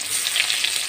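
Onion fries in oil with two bay leaves for a fish head dish of rohu with malabar spinach, giving a bright, continuous sizzle that crackles briefly up close.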